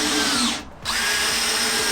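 Power drill driving a screw to fasten the last face piece onto a redwood planter, a loud continuous whine that dips briefly mid-way and then resumes at full speed, close up.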